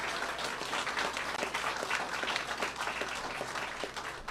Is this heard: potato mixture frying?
no